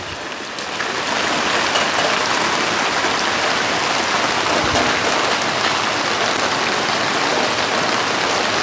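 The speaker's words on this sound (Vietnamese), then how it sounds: "Mưa này thì không có phải là gió nhiều, nhưng mà mưa là mưa cả ngày lẫn đêm luôn." Heavy, steady rain pours down in the Mekong Delta near a covered boat, a dense continuous hiss of drops on water and surfaces that swells after the first second and holds loud and unbroken throughout.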